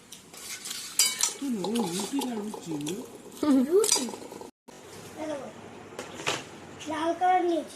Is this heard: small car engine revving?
no